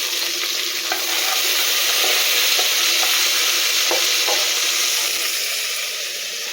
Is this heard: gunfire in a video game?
no